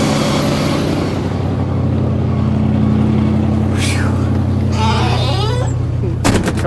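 A broken-down vehicle with no throttle linkage idles and revs loudly and steadily, its engine drone continuous with a sharp clatter near the end; a voice can be heard briefly over it.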